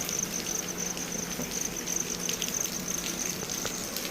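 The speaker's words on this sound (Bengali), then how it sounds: "দেখো বৃষ্টি হচ্ছে" Light morning rain falls in a steady, even patter close by, a soft continuous wash of drops with no voices.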